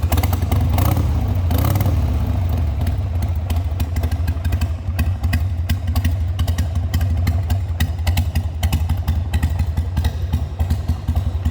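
A 2000 Harley-Davidson XL883 Sportster 883 with custom paint idles loudly and steadily up close, its pipes giving a deep, lumpy rumble, with light throttle blips raising the revs partway through.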